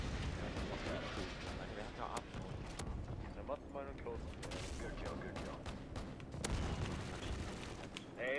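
Tank cannon fire and explosions from a tank video game boom repeatedly and at a distance amid a dense, rumbling battle din, fairly faint and mixed under other game noise.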